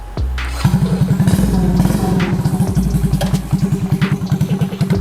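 A mini chopper motorcycle engine with a free-flow exhaust starts up and idles with a loud, rapid, uneven popping exhaust, close by and continuous.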